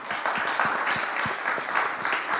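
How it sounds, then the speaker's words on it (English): Audience applause at a media festival panel session, a moderate steady patter of many hands clapping throughout, fairly close and even in rhythm. "Let's give him a round of applause."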